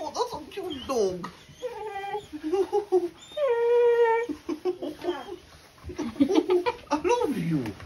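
A Belgian Malinois whimpers and howls in drawn-out, rising and falling whines, several cries over about eight seconds, close by, with a person talking to the dog in between.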